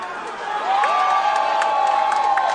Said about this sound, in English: Crowd's feeling it right now.